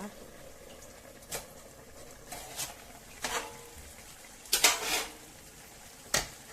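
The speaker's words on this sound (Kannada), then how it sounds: "ಇದರ ಮುಚ್ಚಳ ತೆಗೆಯುವ." A metal lid comes off a cooking pot of bottle gourd halwa in a home kitchen, giving several sharp clanks and clinks spread out over a few seconds against a quiet background.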